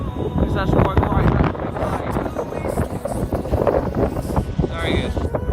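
Wind gusting outdoors on a bright, clearing day in the Outer Hebrides, a steady loud rush and buffeting across the microphone that persists throughout, with a person talking over it.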